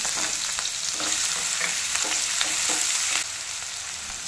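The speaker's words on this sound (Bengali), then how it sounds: "পেঁয়াজ দেওয়ার পর পেঁয়াজটাকে হালকা লাল করে ভেজে নিতে হবে" Chopped onion frying in hot oil, a steady bright sizzle with faint scraping stirs throughout, close and continuous, easing slightly toward the end.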